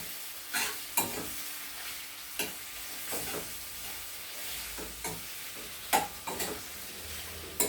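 Capsicum cooking in a pan for dhaba-style paneer kurchan, a faint steady sizzle broken by sharp scraping stirs at uneven intervals, with no voices.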